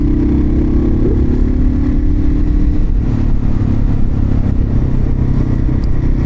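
A $500 motorcycle rumbles steadily through city streets, a loud, continuous low engine drone with some rattle and shifting throttle, with no talking over it.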